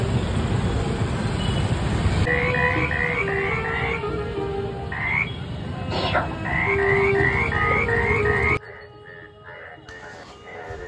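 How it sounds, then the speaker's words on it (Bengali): Recorded frog croaks play at a Durga Puja pandal. Rapid repeated croaking runs in bursts over loud, steady crowd and street noise, then the noise drops away near the end. "ব্যাঙ ডাকছে, একটা অন্যরকম পরিবেশ মনে হচ্ছিল যেন বর্ষাকাল।"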